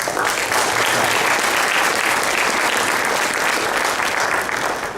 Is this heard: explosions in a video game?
no